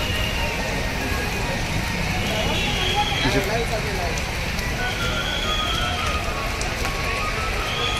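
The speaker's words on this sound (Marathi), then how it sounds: "खूपच अति जोरात पाऊस आहे, दरवेळी एवढा पाऊस नसतो, अति पाऊस." Steady, dense hiss of heavy monsoon rainfall at Akurdi during the Pandharpur Wari pilgrimage, pouring continuously with no breaks, at an even loud level throughout.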